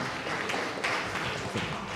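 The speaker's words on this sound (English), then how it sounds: "Give a big round of applause to Professor Ime." Audience applause for a guest lecturer at a university engineering faculty, steady moderate clapping throughout with a few sharper individual claps standing out.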